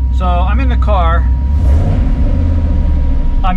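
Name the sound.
Cobra Daytona engine revving with new exhaust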